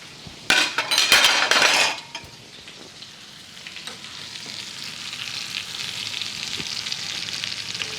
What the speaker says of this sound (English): that thyme, butter, and parsley. Watch how that cook down